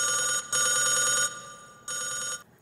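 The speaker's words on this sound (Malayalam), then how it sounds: "അയ്യോ, എന്റെ ഫോൺ അടിക്കുന്നുണ്ട്." A mobile phone rings in two loud, close electronic bursts separated by a brief pause, with no talking over it.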